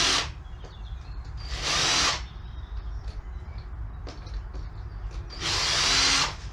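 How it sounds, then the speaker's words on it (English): A power drill fitted with a metal drill bit whirs in two loud bursts, each about a second long, with quieter workshop noise and a running motor in between. "not using the proper drill, which I've got in my hand now to do this."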